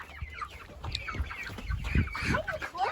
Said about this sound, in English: Yeah, that's the rooster right here.